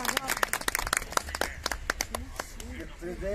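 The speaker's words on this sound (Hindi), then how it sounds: "उनका तालियों से इतना स्वागत करें।" Audience applause at an authors' guild literary event, with scattered claps rattling over people talking, uneven and fairly close.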